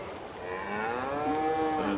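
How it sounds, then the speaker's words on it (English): Beef cattle in a Farm Simulator 22 farmyard, a herd with calves, give a long, drawn-out moo that rises and holds over a low herd murmur for about two seconds, clear and fairly close. "And then we've got the old beef cattle"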